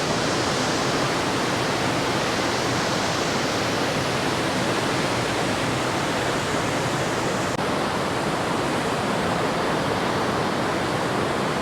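A glacier-fed stream near Lauterbrunnen in the Swiss Alps gushes at high speed, a loud unbroken roar of rushing water that fills the whole scene with no let-up and no voices.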